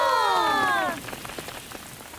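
Steady rain patters on surfaces under a swooping cartoon sound effect that fades after the first second, leaving the soft continuous hiss of rainfall.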